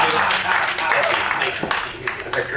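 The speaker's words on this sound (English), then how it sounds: "Go ahead and unleash your mighty pirate applause" Audience clapping and cheering at a pirate show aboard the Disney Fantasy cruise ship, a sustained loud crowd roar of applause with scattered sharp claps.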